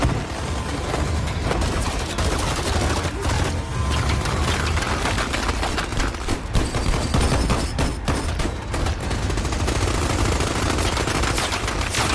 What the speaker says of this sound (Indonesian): Dan aksi tembak-menembak pun tak terelakkan.